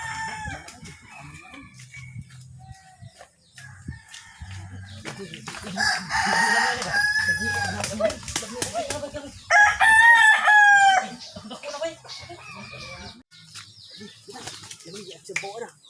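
A rooster crows loudly a couple of times, its drawn-out call rising over clucking fowl and scattered voices nearby.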